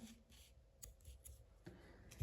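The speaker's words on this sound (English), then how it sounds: "we can cut the excess yarn" Small scissors snipping off excess crochet yarn on Christmas wreath earrings, a few quiet, close, crisp clicks spaced irregularly, with a soft thump at the end and no speech.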